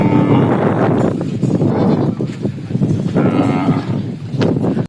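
Calves for sale at a farm in Duvvur town, Kadapa district, moo loudly and close by in several drawn-out calls, one after another.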